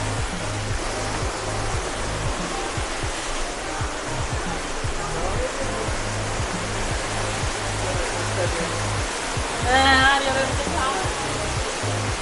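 A waterfall in Antalya, Turkey roars continuously with dense rushing water noise, steady and loud, with rumbling low thumps underneath.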